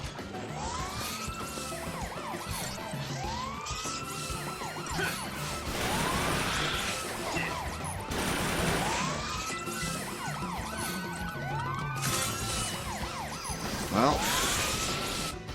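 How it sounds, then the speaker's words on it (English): A police siren in the video game Final Fantasy XIII wails in steady, repeating rising and falling sweeps throughout, over a busy game background, with a voice speaking briefly. "Now we just have the constant police siren."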